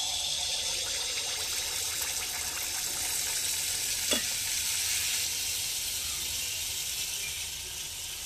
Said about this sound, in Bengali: তারপরে এখন হচ্ছে সেই বিখ্যাত পাকান ছাকা হচ্ছে